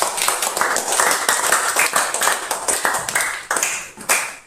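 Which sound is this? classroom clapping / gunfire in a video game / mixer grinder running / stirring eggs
classroom clapping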